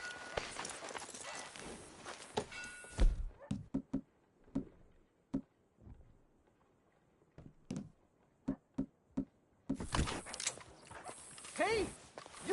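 Horse hoofbeats from riding in the game Red Dead Redemption 2: a loose, uneven series of distinct clops in the middle of the clip, with louder voices and game sound before and after.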